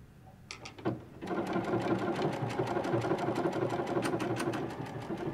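Baby Lock sewing machine sewing a wide side-to-side stitch, starting with a few clicks and then running in a steady, close, rapid mechanical chatter of needle strokes.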